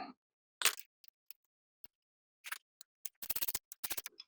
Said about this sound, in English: Just let me get these tightened up here.